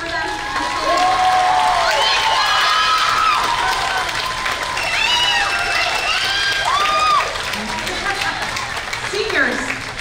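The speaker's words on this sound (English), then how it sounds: "Can we cheer for them?" A school concert audience at a high school spring band concert claps and cheers loudly for standing seniors, a dense wash of applause with whoops and shouts rising over it, steady for several seconds.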